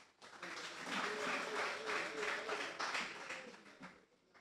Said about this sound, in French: Mesdames et messieurs, sous vos applaudissements, le docteur Samuel Régulus.